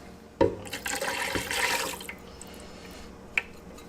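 Water poured into chili inside a Ninja Speedi cooker gives a splashing, gurgling pour lasting about a second and a half, close and fairly loud, then fades into quiet room noise with a small click near the end.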